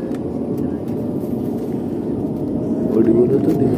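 An IndiGo airliner waiting on the ground before takeoff gives a steady low engine and cabin drone throughout, with muffled voices mixed in and a slight rise in loudness near the end.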